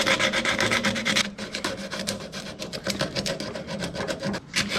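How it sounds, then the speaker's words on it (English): Sandpaper rubbing hard against a contact spot on the wiring of a Holden LC GTR Torana, a close, continuous rasping scrape in quick back-and-forth strokes. "I'll sand that off."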